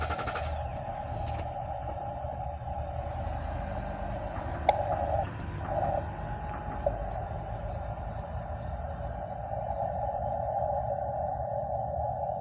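A QRP Labs QMX ham radio transceiver on the 10-meter band at an outdoor park activation gives a steady, high-pitched CW tone broken by a few short gaps, over low rumbling background noise.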